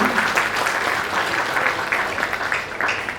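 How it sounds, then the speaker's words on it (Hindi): Applause from an audience at a Diwali get-together, a dense steady wash of clapping that carries on evenly throughout. "एक जोरदार तालियां हो जाए सुंदर जी के लिए।"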